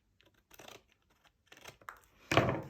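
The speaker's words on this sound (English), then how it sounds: "just take your scissors and follow the line" Scissors cutting along the line of a card in a papercraft project: three quiet, close snips, the last one louder and longer, with no talking.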